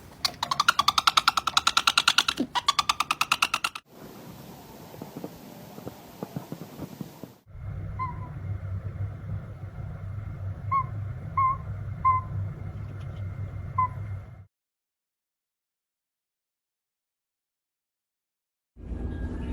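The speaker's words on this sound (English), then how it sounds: "This is what a great horned owl does when he's mad at you." An angry great horned owl, close by, gives harsh rapid snapping bursts, then a long breathy hiss, then a low rumbling growl with a few sharp chirps. A silent pause follows before the growl resumes briefly at the end.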